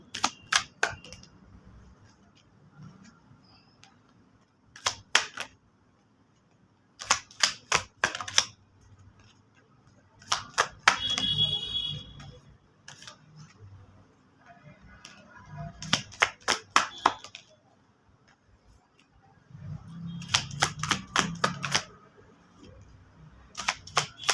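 Repeated bursts of card-shuffling clatter from a tarot deck, each flurry of rapid riffles lasting about a second, recurring several times at close range with quiet gaps and soft handling noises between them.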